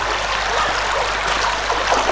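Steady running water as an item is washed in the game Anna, a continuous close trickling and splashing wash with no voices.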